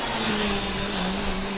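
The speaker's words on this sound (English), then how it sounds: "I like the sound of the Thessaly car." The Thessaly Formula Student race car, from a Greek university team, drives past on the endurance track with a steady high-pitched engine whine, loud and close, its pitch drifting slightly as it runs by.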